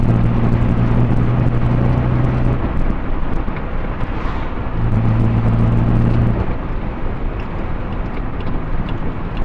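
A Morris Minor car rolls along with a steady broadband road and engine rumble, loud and close throughout, with a low droning hum that fades in and out twice.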